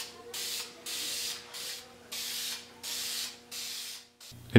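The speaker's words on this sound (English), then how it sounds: "Just giving it a couple coats of lacquer." An aerosol can sprays coats of lacquer onto a carved toilet paper talisman in six evenly spaced hissing bursts with brief pauses between, close by, followed by a sharp knock at the end; no talking.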